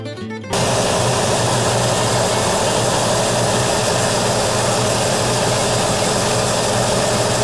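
Wood lathe turning a wood blank at about 600 RPM, a steady loud broadband whir that starts abruptly after a brief quiet moment and holds constant throughout with no talk.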